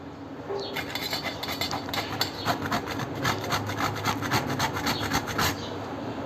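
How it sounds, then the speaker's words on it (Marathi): Nutmeg grated by hand over a sweet milk-and-jaggery custard mixture, a close, steady rhythmic rasping of many quick strokes that runs for several seconds with nothing else around it. "आणि आता हे जायफळ आहे ते जरासं वरनं किसून घालते थोडंसं"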